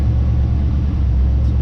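A 1994 Corvette engine idles roughly, a steady low rumble close by with no voices over it.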